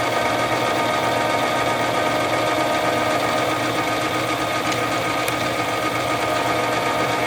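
A South Bend Heavy 10 metal lathe, 10 by 36 inches, runs under power carriage feed in a machine shop. It makes a steady, close mechanical whir with geared clatter and rhythmic ticking, constant in level throughout, and no one speaks.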